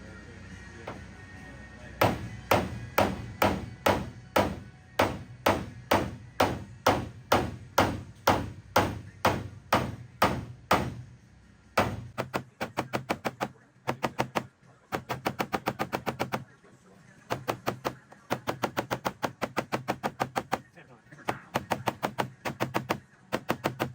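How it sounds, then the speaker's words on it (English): Paintless dent repair hammer tapping a dent on a 1969 Dodge Charger: a long run of sharp, evenly spaced taps, slower and heavier at first, then faster, lighter rapid bursts with short pauses between. "it's time to take the hammer to it again"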